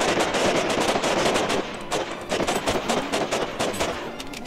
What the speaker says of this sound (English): And this is why I find assault rifles very unreliable, because, well, I just used up like 2 mags to kill 4.